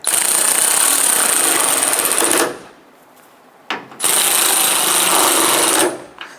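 Power driver snugging down the tail light mounting bolts on a 2005-2021 Nissan Frontier pickup: two loud, sustained whirring bursts split by a brief quiet pause, with no talking.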